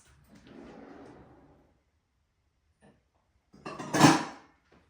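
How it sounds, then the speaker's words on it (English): A lid set onto a pot while making kombucha: a soft scraping shuffle of metal, a pause, then one sharp, bright clatter of the lid landing, close and alone. "Now I'm just going to chuck a lid on this."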